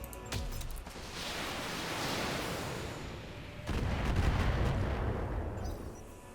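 Mech weapons fire in a BattleTech battle, a sustained loud barrage of booming blasts with a heavier burst partway through, no talking over it.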